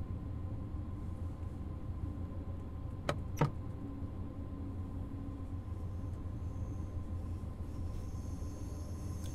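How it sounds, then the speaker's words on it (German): A train rolls slowly into Munich Hauptbahnhof in the video game Train Sim World 2, a steady low rumble and hum throughout with a couple of brief sharp clicks partway through. "langsam fahren wir dann ein in den Münchner Hauptbahnhof"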